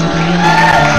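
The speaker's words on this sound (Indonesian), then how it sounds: "Tepuk tangan dong untuk Dela Perez dong." A studio audience on an Indonesian TV variety show cheers loudly for Dela Perez. It is a brief, close burst of shouting and whooping voices, with no clear clapping.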